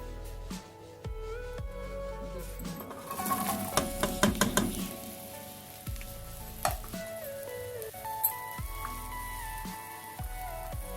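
Steady sizzling of garlic, onion and green chilli frying in a hot pan, with occasional scrapes and clinks of a utensil stirring, close and continuous without speech.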